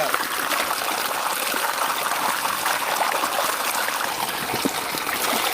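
Fruit is rinsed under a steady stream of running water, which gives a continuous trickling, splashing wash sound up close that holds at even loudness throughout, with no talk.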